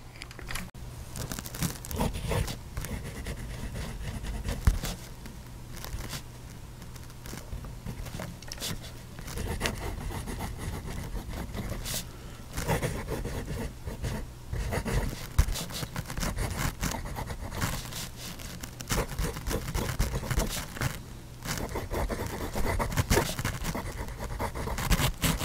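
A fountain pen nib filled with Gordo Road ink writes on Fabriano paper, giving a close, continuous scratchy scraping with irregular strokes and short pauses, no voices.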